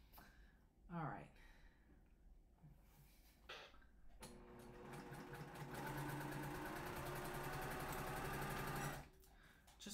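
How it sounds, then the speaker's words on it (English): A sewing machine stitches fabric pieces together in a steady, buzzing mechanical run that starts after a few seconds of quiet room noise and brief speech, then stops near the end. "Just sewing these pieces together."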